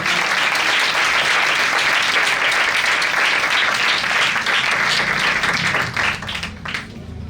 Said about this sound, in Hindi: तो जोरदार तालियां बजाकर बताएं।